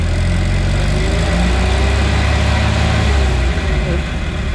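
A Renault R2087 truck engine runs loud and close, its low heavy rumble swelling as the throttle opens and then easing slightly near the end.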